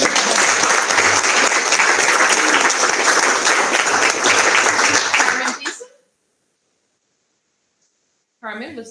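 A school board meeting audience breaks into loud, sustained clapping for a staff honoree, which fades out abruptly to silence before a speaker's voice resumes near the end.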